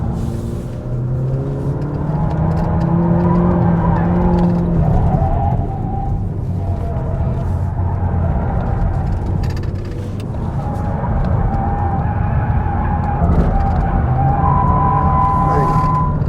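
Mazda 3 e-Skyactiv-X 2022 car driving through a curve, with steady loud engine and road noise that rises and eases while a voice talks over it throughout.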